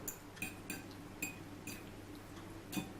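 A small fork stirring yogurt and broccoli in a dish, giving a series of light, close metallic clinks at uneven intervals over a quiet background.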